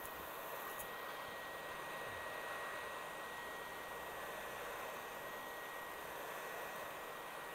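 A heat gun or hair dryer blows continuously while warming the back glass of a Samsung Galaxy Note 8 to soften its adhesive, a steady, even airy hiss with no talking.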